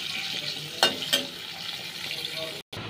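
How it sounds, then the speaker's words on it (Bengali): Onions frying in a pan for mutton biryani, a soft steady sizzle broken by two sharp stirring clatters, fairly quiet throughout. "এবার পেঁয়াজটাকে ভেজে নেব।"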